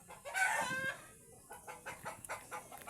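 Chickens cluck and squawk close by in short bursts, one louder call up front followed by softer scattered clucks.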